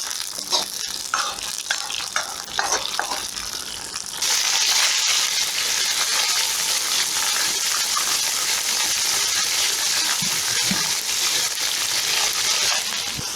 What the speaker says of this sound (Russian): Нам необходимо мясо посильнее, побыстрее обжарить, так, чтобы здесь сок остался внутри, чтобы оно не варилось.